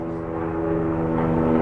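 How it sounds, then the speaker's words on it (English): Helicopter passing overhead on a cold winter day outside a home garage, a loud, steady droning engine with strong low harmonic hum that holds constant throughout. "Now that the helicopter's gone, it's like 40 degrees out."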